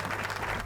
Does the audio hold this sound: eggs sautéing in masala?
no